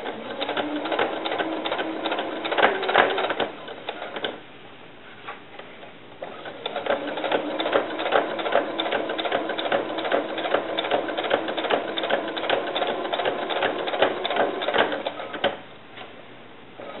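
A sewing machine stitches a small doll bra, its needle running in a fast, steady mechanical whir that stops briefly twice and then starts again, close and loud with no talking.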